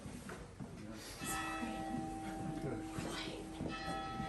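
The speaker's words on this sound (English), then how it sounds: "We ring the bell." A bell rung for special guests at a winery in Dürnstein, striking with sustained ringing tones that hang over a busy room, with people talking throughout.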